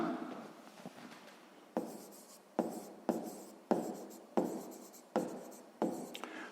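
A pen writing on paper during a sixth-grade maths exercise produces close, crisp scratching strokes in about seven distinct bursts, each fading briefly before the next, with no talking.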